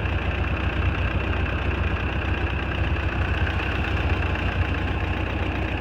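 A Ford 8N tractor engine runs steadily with the PTO engaged, a loud, continuous low rumble and drone without a break.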